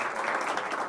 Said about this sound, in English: Big round of applause for our panel, our great panel tonight.